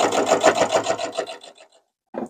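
A sewing machine stitches quilt binding with a quick, rhythmic whirring run that slows and stops, and a brief mechanical sound follows after a short silence.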